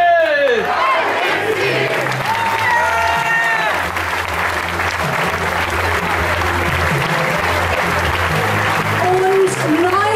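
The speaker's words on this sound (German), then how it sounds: "Einen ganz lauten Applaus für Daniel!" Loud crowd applause at an ice hockey season opening in an arena, sustained clapping with whistles and shouts, while music or an announcer's voice carries on underneath.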